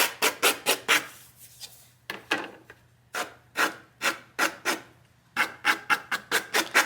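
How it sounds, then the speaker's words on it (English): Old handmade paper being sanded by a bookbinder, a loud, close, rhythmic series of rasping strokes in quick bursts with short pauses between groups. "I would sand that a little bit."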